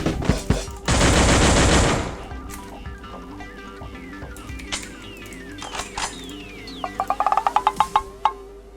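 Gunfire in the video game Free Fire: a dense burst of automatic fire, then scattered single shots and game effects, ending in a rapid string of sharp shots.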